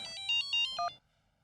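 A mobile phone ringtone plays a short, bright electronic melody of several clear tonal notes. It sounds close and stops abruptly after about a second.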